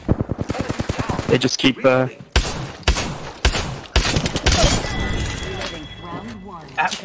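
Rapid automatic gunfire and glassy impact cracks in the video game Apex Legends, loud and close in choppy bursts, with a player talking over parts of the fight.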